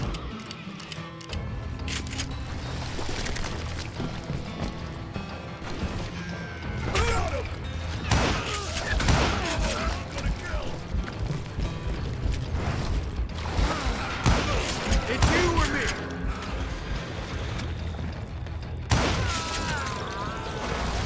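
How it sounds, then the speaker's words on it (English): A fusillade of gunfire rains down from above in the Western shooter Call of Juarez: Gunslinger, with scattered sharp shots, crashes and impacts spread over about twenty seconds amid a steady background din. "a fusillade of bullets come raining down from on high"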